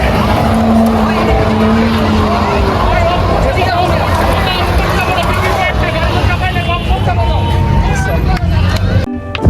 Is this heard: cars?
yes